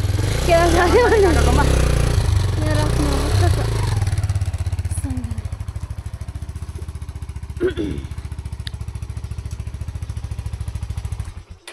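A motorcycle engine runs steadily close by on a rural village road, a low throbbing drone that persists throughout, with voices talking over it in the first few seconds.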